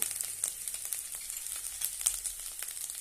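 Spices sauté in hot oil for curry leaves rice, a light crackling sizzle with quick pops and soft bursts close by, no talking.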